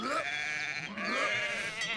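Cartoon sheep in the Rabbids Party video game bleat repeatedly while being sheared, loud and close, with a steady run of wavering, high-pitched calls and busy game sounds behind them.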